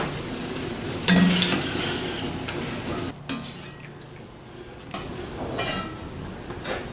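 Steady bubbling sizzle of boondi, small gram-flour drops for kara boondi mixture, deep frying in hot oil, with occasional clinks and stirring scrapes, no talking.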